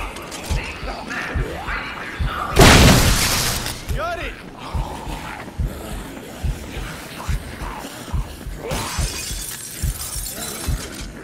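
A ZDC speaker in Dead Rising 3 is shot and bursts apart with a loud, bright shattering crash at about the three-second mark. Game sounds continue around it, with a short ringing tone, scattered thumps and voices talking.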